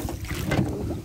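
Wind picking up across open water at night, heard from a boat while crayfishing, a constant low rumble and buffeting against the microphone with a faint slosh underneath.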